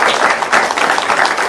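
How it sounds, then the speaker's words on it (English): An audience applauds loudly, a dense continuous patter of many hands clapping throughout. "Let's give them a round of applause."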